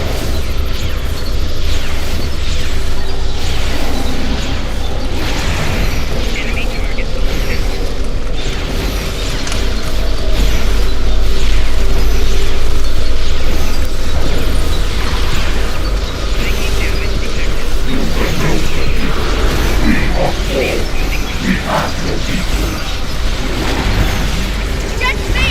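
Video game combat with weapons fire and explosions, a dense, loud continuous barrage of booms and bursts over mechanical noise, with voices speaking over the action throughout.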